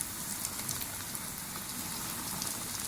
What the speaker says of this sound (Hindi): अब हम इसे डीप फ्राई करेंगे। तमाम पीसों को हम डीप फ्राई करेंगे